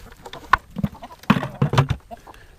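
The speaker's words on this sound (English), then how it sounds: "to invite the chickens to get in and to stir the compost pile up" Chickens scratching and stirring up a compost pile on a small farm, with clucks, scuffling and soft bursts of movement close by in a brief, busy stretch.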